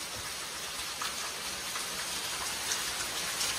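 Heavy morning rain pours steadily onto surfaces nearby, a dense continuous hiss with scattered louder drops, no voices.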